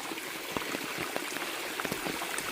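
A mountain creek flows along a wet, muddy stretch of the Appalachian Trail in the Smokies, giving a steady, close rushing wash of water with small splashing ripples throughout.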